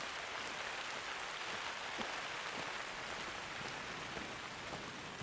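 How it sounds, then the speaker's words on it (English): Steady, dense video game rainfall from Hunter: Call of the Wild patters evenly across the whole stretch, a constant hiss with scattered droplet ticks and no voices. "we're out here in the rain."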